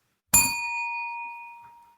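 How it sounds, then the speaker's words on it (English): A single bell is dinged once as a World Cup football history segment is being recounted, a clear bright strike with a long ringing tone that slowly fades, heard alone and close. "We like the bell. We ding it when we can."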